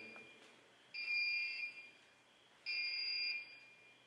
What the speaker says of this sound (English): The beeping you're hearing is a motion detector.